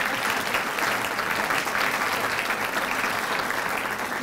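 An audience applauds a staff award recipient at a university Founders Day celebration, a dense, steady round of clapping from a full room that holds evenly throughout with no voices.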